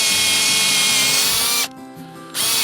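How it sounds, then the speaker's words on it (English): A 7/16 inch bit drilling a tap hole about 3 inches into a maple tree at an uphill angle: a steady, loud power-drill whine that drops out briefly near the end, then resumes. "We tap about 3 inches into the tree. I'm using a 7/16 inch bit."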